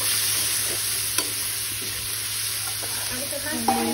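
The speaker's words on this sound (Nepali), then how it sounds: "टमाटर हालेर एकछिन मजाले भुट्ने।" Onion and tomato frying in a pan for chicken biryani, a loud continuous sizzle close by, with occasional clinks and scrapes from stirring and a faint hum underneath.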